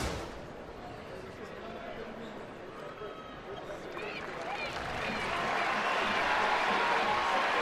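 A basketball crowd inside the Marriott Center breaks into applause that swells steadily over several seconds, with a broadcast voice talking over the arena noise.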